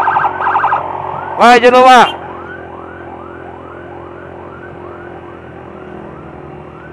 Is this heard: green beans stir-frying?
no